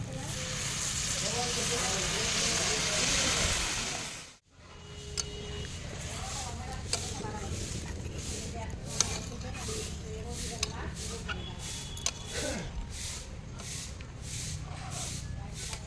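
Water poured into spiced potatoes frying for aloo dum sets off a loud, dense roaring sizzle that breaks off abruptly, then a quieter steady bubbling simmer with light spoon taps follows.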